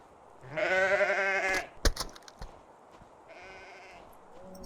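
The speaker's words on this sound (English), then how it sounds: "Okay, so it was a snow sheep." A snow sheep in a video game bleats in a long wavering cry, followed by a sharp thump and then a fainter, shorter bleat against a quiet background.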